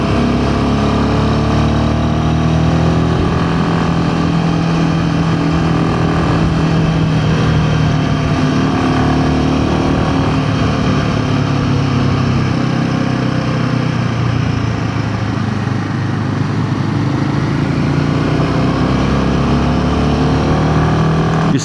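Motorcycle engine running smoothly while riding in the Himalayas, a continuous close, loud drone with wind rush and a steady low hum that holds for the whole stretch, no speech.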